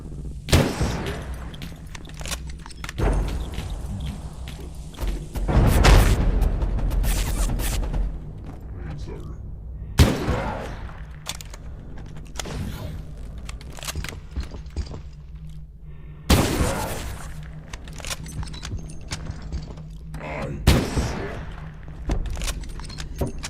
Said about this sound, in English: he's eating a lot of sniper bullets straight to the face